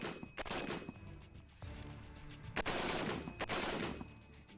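An FN SCAR Heavy battle rifle fires on a range in quick repeated bursts, with loud sharp reports and rolling echo between volleys, no voices over it.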